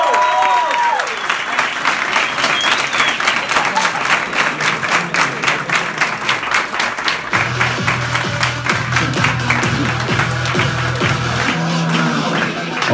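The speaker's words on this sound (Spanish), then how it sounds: "un aplauso para ellos," Sustained audience applause at a business meeting in Medellín, dense rapid clapping from many hands, with voices and a steady low hum joining later.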